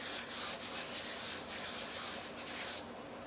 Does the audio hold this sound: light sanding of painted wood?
yes